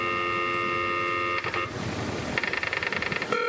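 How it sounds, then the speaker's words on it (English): Dial-up modem handshake from an Apple IIe's integrated modem: steady tones, then a burst of noisy static and a rapid warbling, pulsing screech of negotiation tones, loud and alone with no talk. "Ah, the dial-up phone."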